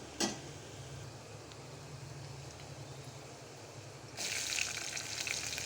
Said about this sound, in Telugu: ఎర్రగడ్డలు వేసుకొని అవి కొంచెం బాగా ఫ్రై అయ్యాక, అంటే గోల్డెన్ కలర్లో వచ్చేంత వరకు ఫ్రై చేసుకోవాలండి ఎర్రగడ్డలు